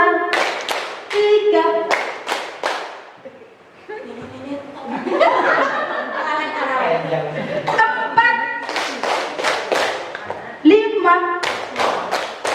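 Rhythmic group hand clapping in a classroom clapping game, with sharp bursts of claps in counted patterns, interrupted by a stretch of chatter and laughter in the middle before the clapping returns.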